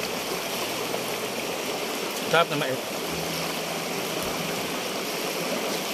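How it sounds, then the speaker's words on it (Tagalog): River water flowing, a steady broadband rush close by, with a brief spoken remark partway through. "Ay, no, ng agos ng ganito, ng ilog,"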